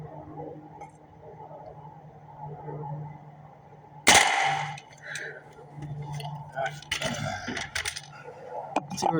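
A .30 caliber 600 fps pellet gun fires a single sharp crack partway through, with someone talking quietly before and after the shot.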